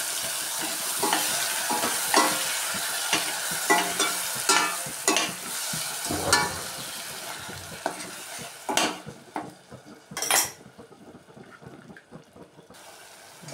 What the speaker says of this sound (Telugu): ఇదండి ఎర్రగడ్డ బాగా ఫ్రై అయింది